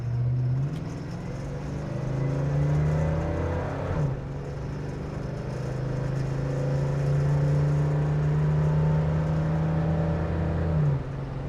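A 1969 Buick GS 400 accelerates steadily through its gears on the road, a loud, close engine drone with rising pitch, one brief dip at a gearshift and a second shift near the end.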